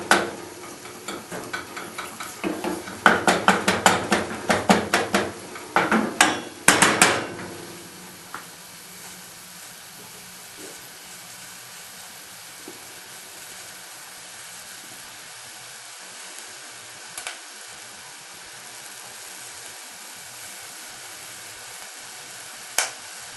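Minced beef fries in a pan: for the first several seconds a utensil scrapes and stirs in quick, uneven bursts, then a soft, steady sizzle carries on quietly with only the occasional tap.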